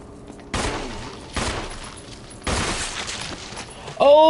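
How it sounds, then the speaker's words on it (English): Pistol shots in a first-person video game ring out in three sharp bursts about a second apart, each trailing a short echo, followed by a brief metallic reload clatter at the end. "Oh, dude, I did a headshot with a pistol."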